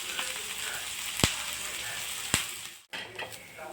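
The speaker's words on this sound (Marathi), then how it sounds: "आता कांदा जरा ब्राऊन व्हायला सुरुवात झालेली आहे" Chopped onions fry in a pan for shevga masala as they begin to brown, giving a steady close sizzle broken by two sharp utensil clicks and a brief dip near the end.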